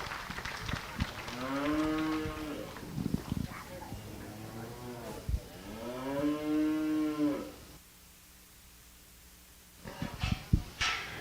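Cattle at a county fair beef show lowing in the show ring, several long, loud moos one after another, with a quiet pause near the end and crowd noise around them.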